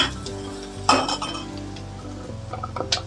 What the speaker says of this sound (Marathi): तो पण परतून घेते चांगला